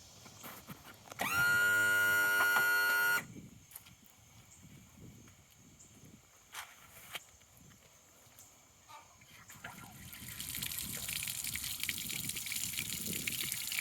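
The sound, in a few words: water running through Honda outboard motor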